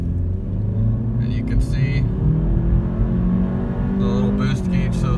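2018 Honda Civic Hatchback with the 1.5 turbo engine accelerates hard from a stop toward 60 mph at elevation, a steady rising engine drone heard from inside the cabin while someone talks over it.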